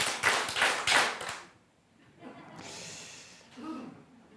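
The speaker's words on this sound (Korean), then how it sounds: "자, 박수 한번 칠까요?" A church audience at a Bible lecture claps in a short, loud burst of quick hand claps lasting about a second and a half, followed by near silence with a few faint scattered sounds.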